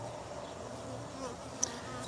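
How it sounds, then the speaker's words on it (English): Honey bees buzzing around an opened wild hive, a steady faint drone of many wings with one brief sharp tick near the end. "I have a jar down here that's just full of bees."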